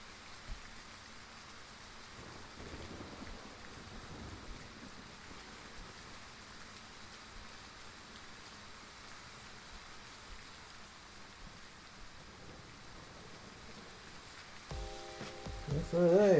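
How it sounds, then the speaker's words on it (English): Steady rainfall in the video game Girls' Frontline gives a soft, even hiss, faint and unbroken throughout, with a few brighter game tones rising near the end. "The rain is still going."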